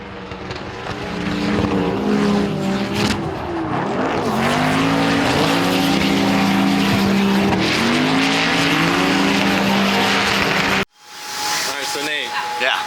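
Drift cars on a Formula Drift tandem practice run in Salt Lake City scream past with high-revving engines and squealing, smoking tires, loud and continuous with rising and falling pitch, cutting off abruptly before a second car roars in.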